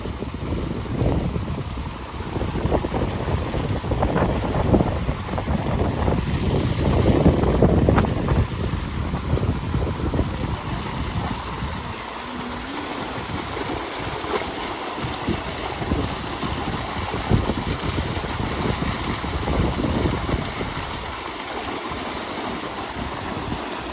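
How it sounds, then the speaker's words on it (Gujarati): A running farm motor pumps water into a tank on a Gujarat village farm, heard as a continuous rushing gush of water with rumbling, wind-buffeted noise that surges and eases over the span, no voices. "અહીંયા જો સરસ મજાનું કુંડીમાં પાણી આવે છે અને મોટર ચાલુ છે"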